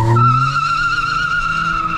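A VW Up TSI launches hard with a loud, sustained tire squeal that holds steady for about two seconds, close by and alone over a low engine roar.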